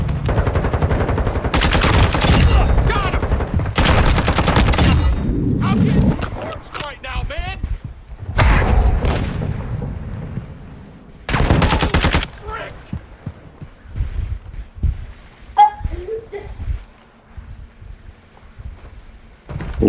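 Rapid bursts of gunfire from a shooter video game crackle loudly in repeated volleys, with shorter shots and quieter gaps between them and voices talking over parts of it.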